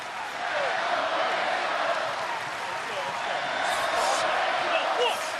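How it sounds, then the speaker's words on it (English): A capacity crowd at a WWE wrestling event in Dallas roars steadily, a broad, sustained cheer with faint shouts rising on top of it. "Capacity crowd here in Dallas trying to will Enzo on."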